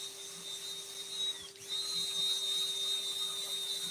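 A cordless power sander works a yew hollow-form bowl at 240 grit, giving a steady, close, high-pitched whine with a low hum beneath that dips briefly midway and then holds constant.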